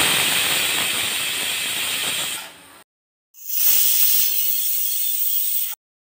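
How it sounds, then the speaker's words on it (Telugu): A pressure cooker boiling moong dal lets off a loud, steady hissing whistle of steam that cuts out, falls silent briefly, then blasts again in a second long burst before stopping abruptly. "కుక్కర్లో 2 విజిల్స్ రానిద్దామండి"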